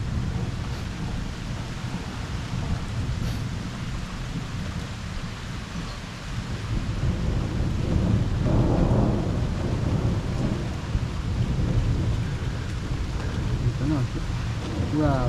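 A severe electrical thunderstorm over Liège, Belgium, with heavy rain roaring steadily throughout and deep thunder rumbling low beneath it, swelling louder in the second half.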